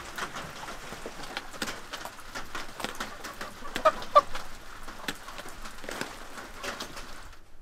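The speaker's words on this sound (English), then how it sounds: "So we're out here to feed the chickens" A flock of hens clucks steadily and softly outdoors at feeding time, many overlapping close and distant calls forming a busy, continuous chatter with a few louder squawks midway.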